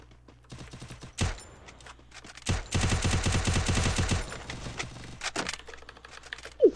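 Gunfire in the battle royale game Free Fire: scattered single shots, then a dense, loud automatic burst lasting over a second, followed by a few more sharp shots and faint clicks, with no talk.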